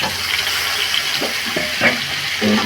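Potatoes for a cauliflower curry fry in oil, a continuous close sizzle with a few stirring clinks and scrapes over the short stretch, no voices.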